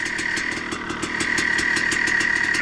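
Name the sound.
rebuilt KTM motorcycle engine idling on first heat cycle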